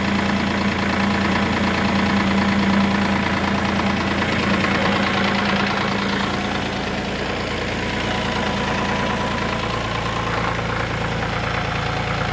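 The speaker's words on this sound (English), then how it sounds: "it still started up pretty good. I mean, for a diesel, but it sputtered there a few times though." Diesel engine running just after a cold start at 15 degrees without the block heater, a loud steady close knocking idle with slight sputtering unevenness, no voices.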